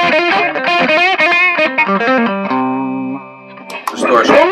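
An electric guitar plays a quick run of notes through a Greenchild Tribus Drive pedal on its overdrive setting, then lets a gritty chord ring out before a brief scrape at the end.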